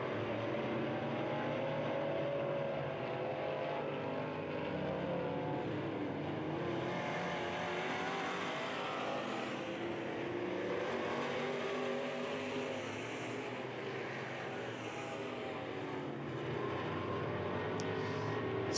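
IMCA Sport Mod race cars circle RPM Speedway during a Last Chance Fall Nationals race, their engines a continuous, moderately distant roar of the pack that rises and falls only slightly throughout.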